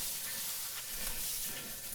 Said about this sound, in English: Onion is sizzling.